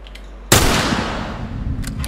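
A single sharp gunshot in The Last of Us Remastered cracks out loud and close, followed by a long echoing tail and faint rattling afterward.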